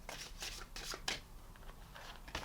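Quick papery riffles of oracle cards being shuffled, several bursts in a row at close range, with no voices.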